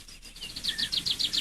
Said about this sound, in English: For the intro, I used some bird ambience in the background.